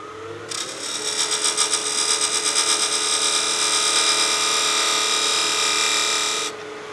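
A skew chisel cuts a recess into a spinning wood pepper mill blank on a lathe, giving a steady, loud scraping hiss with a fine rhythmic flutter that runs for about six seconds and then stops abruptly.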